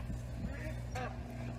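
A single faint duck quack rises briefly over a steady low background hum, with no one speaking.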